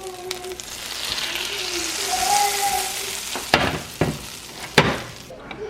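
Pancake batter hits hot buttered pans in a steady close sizzle with a hissing, frying texture, broken by a few sharper clatters and taps near the end.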